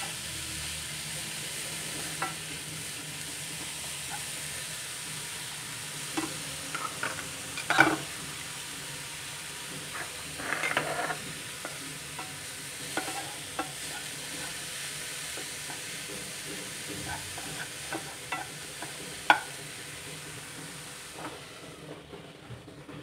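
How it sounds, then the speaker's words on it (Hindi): Grated carrot and cabbage sautéing in a pan for momo filling, a steady low sizzle with scattered scraping stirs and clinks of a spoon, close and continuous with no talking. "अब इन सारी वेजिटेबल्स को हम लोग थोड़ी देर के लिए सॉटे कर लेंगे।"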